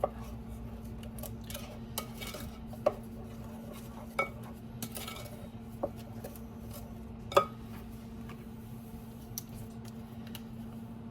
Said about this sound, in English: Stir the butter in.